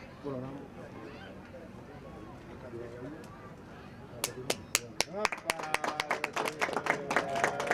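Talk gives way to an audience clapping to honour saints at a Gujarati religious gathering, sharp claps starting sparse and quickly building into a lively, fairly close burst of applause.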